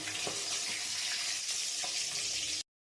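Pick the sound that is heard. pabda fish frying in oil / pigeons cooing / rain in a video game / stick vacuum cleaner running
pabda fish frying in oil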